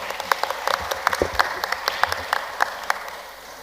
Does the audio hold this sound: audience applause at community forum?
yes